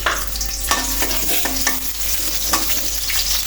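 Onions frying in a small amount of oil and being stirred in a pan: a loud continuous sizzle broken by quick scraping stirs, with no talking.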